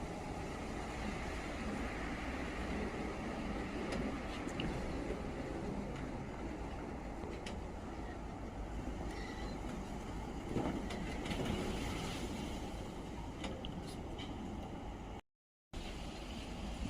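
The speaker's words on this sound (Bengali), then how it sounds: "দেখেন বাতাসের কি আওয়াজ" Storm wind roaring steadily outdoors, a loud sustained rushing noise with gusts swelling and easing, broken by a brief cut near the end.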